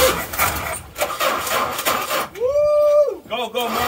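A 1985 Dodge D150 pickup with a bad starter cranks, the engine catching with a rising whine that holds, drops and stutters again, with people talking and shouting over it.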